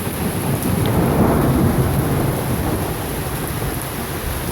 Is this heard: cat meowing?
no